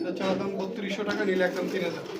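Pigeons coo at a bustling pigeon market, a steady murmur of birds under constant crowd chatter and bargaining voices.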